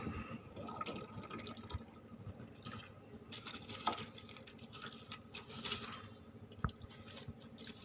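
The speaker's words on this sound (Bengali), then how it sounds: "জলটা আমার ফুটে গেছে আমি এর মধ্যে দিয়ে দেব ভেজানো চালটা" Soaked rice for chicken biryani goes into a pot of boiling water, producing a soft, continuous watery bubbling and pattering with scattered small splashes, quiet and close, with no speech.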